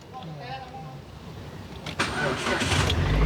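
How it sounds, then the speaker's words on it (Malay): A Proton Saga car engine cranks and then catches, rising into a running rumble in the last second and a half, close and moderately loud, with faint talk over the start. "Cuba start."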